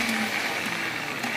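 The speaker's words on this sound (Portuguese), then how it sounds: "a gente baixa no liquidificador, o abacate podre, o negócio açucarado" A kitchen blender runs steadily, whirring loud and continuous as it purées a mousse of overripe avocado, cocoa powder and sweetener, with no speech over it.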